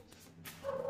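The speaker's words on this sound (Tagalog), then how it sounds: "Tabing daan kasi kami, kaya tinatahulan nila yung mga sasakyan." Dogs barking at passing vehicles along a roadside, a short distant yelp rising near the end over faint background noise.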